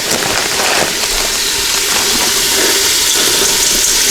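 Liquid pours steadily into a pressure cooker for ribs, stuffing and mushroom soup, a loud continuous splashing rush that lasts throughout.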